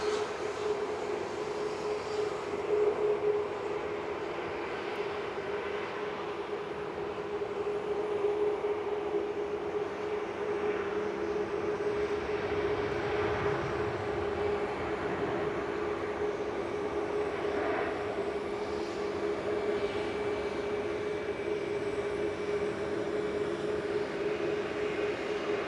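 Boeing 787-9 Dreamliner arriving at an airport, a long, steady engine drone with a faint whine, rising slightly in the middle, distant and without talk.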